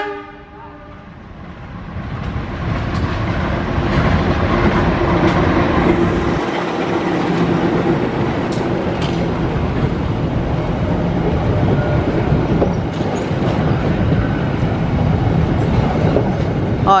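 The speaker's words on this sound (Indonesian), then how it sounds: "Kaget juga nih tiba-tiba ada kereta." A train rumbles past close by, steady rail noise and wheel clatter filling the whole stretch, loud and continuous.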